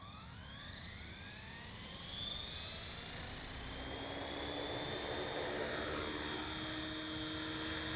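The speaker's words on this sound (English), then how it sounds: "Let's go ahead and fly. For the first hover, I want to go ahead and check the tail rotor trim" A model helicopter lifts off from the bench into its first hover, its rotor whine climbing and sweeping upward in pitch, then holding as a loud, steady high-pitched drone.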